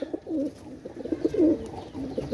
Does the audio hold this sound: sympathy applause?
no